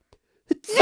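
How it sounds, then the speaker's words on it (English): A single sneeze close to the microphone during a casual podcast chat, with a faint breath before the sharp, loud burst at the end. "Oh, I'm gonna sneeze."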